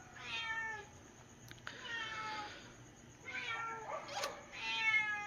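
A cat meows several times in drawn-out, wavering cries spaced across a few seconds, fairly close against a quiet background, with no talking.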